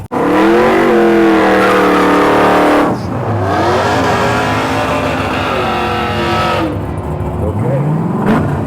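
Drag racing car at the Pontiac Nationals launching hard down the strip, a loud roaring engine with rising revs close by, then a gear change and a second surge as it pulls away, with commentary talking over it.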